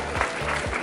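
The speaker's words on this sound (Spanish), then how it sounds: "Un aplauso para todos estos niños" Crowd applauding children at a school sports awards ceremony, a short snatch of dense, steady clapping with low thuds beneath.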